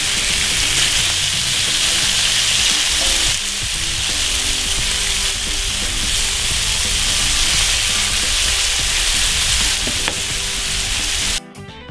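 Bacon frying in a pan gives a loud, dense, continuous sizzle and crackle that holds steady for about eleven seconds and then stops abruptly, with no voices over it.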